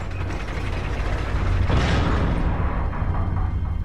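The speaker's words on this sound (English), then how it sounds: "Look, there is a lever. It releases the ladder." In the Metro: Last Light video game, a lever releases a ladder mechanism with a grinding ratchet-and-gear clatter that builds into a heavy metallic clunk partway through, followed by rattling as the mechanism settles.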